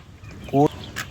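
A young Gramasri chick, a cockerel, gives a single short, loud peeping chirp that stands out above faint background noise.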